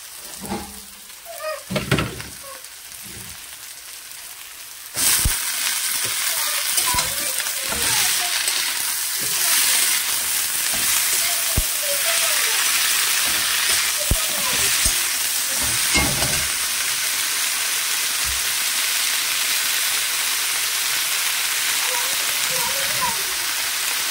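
Chopped spinach hits a pan of fried dried shrimp, and a quiet scraping start gives way suddenly to a loud, sustained sizzle with intermittent stirring scrapes and clatters, close by, with no talking.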